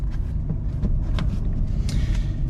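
A 2022 Ram TRX fitted with an AFE cold air intake drives along with a loud, steady low engine rumble and road noise heard from inside the cab, occasional light clicks on top.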